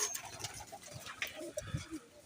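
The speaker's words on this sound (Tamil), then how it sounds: "புறா கூண்டு" Pigeons coo softly inside a pigeon cage at a country chicken farm, low murmuring calls repeating over faint background noise, fairly quiet and close.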